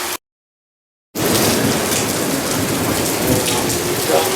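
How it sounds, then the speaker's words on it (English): Steady, loud rain from a lightning storm roars close after a second-long dropout of silence, with a low rumble of thunder mixed into the downpour. "I think I just got the greatest lightning bolt"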